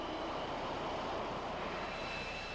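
Dornier Do 31 jet engines roaring steadily during a hover attempt, a dense, continuous broadband roar with a high whine running through it, loud and unbroken throughout.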